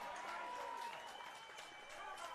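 A crowd at a QAFL Australian football elimination final cheers and claps after a goal, a steady distant wash of applause and voices with a faint voice over it.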